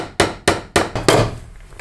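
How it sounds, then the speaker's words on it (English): A hammer driving NM staples over electrical cable while wiring a light switch circuit, five sharp, close, evenly spaced knocks in quick succession, alone with no talking. "I'm just gonna apply some NM staples."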